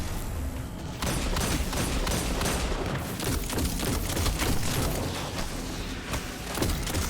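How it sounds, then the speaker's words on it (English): Grenade tossed and exploding during a Destiny 2 Lost Sector fight, a dense burst of booming blasts and gunfire-like crackle that carries on loudly through the whole stretch, with no voices over it. "So I'm going to toss a grenade over there in hopes to get it on it and break its shield."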